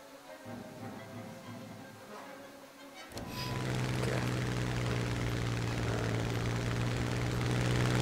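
A Hurricane fighter's propeller engine in War Thunder roars up suddenly after a quieter stretch, then holds a loud, steady drone with a constant low tone.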